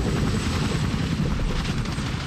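A large helicopter losing control and coming down at an air show, heard as a continuous loud rotor roar with dense rumbling low end and no break across the brief span.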